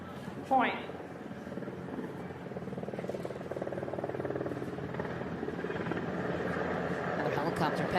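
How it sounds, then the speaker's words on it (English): A steady low rotor drone builds and holds through the clip after a brief sharp knock near the start, a helicopter passing over an outdoor pickleball match, with faint voices underneath. "Another helicopter passing through."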